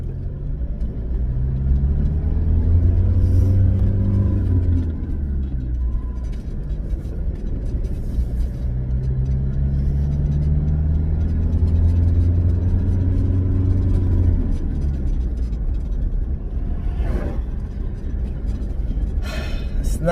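A deep diesel engine in a Toyota Hilux pickup with a manual transmission rumbles steadily, rising and falling in pitch as the truck pulls under load, loud and close throughout.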